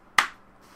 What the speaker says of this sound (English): I'm going to give myself a clap here.